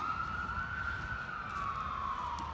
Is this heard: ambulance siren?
yes